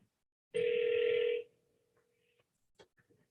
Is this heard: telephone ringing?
yes